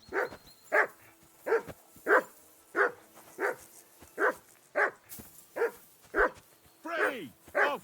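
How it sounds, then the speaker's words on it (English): A dog barks repeatedly in Kingdom Come: Deliverance II, a steady series of about a dozen loud, evenly spaced barks, the last ones breaking into a higher yelping whine. "Call off that damn dog before he wolfs down the last of our mates."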